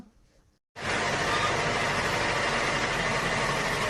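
After a brief quiet moment, a tractor engine starts up abruptly and keeps running at a steady, loud, close rumble.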